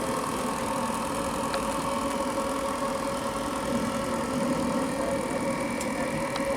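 A model RC steam tugboat running at full speed ahead chugs continuously at an even level, with a constant hum and faint rhythmic knocking, no voices.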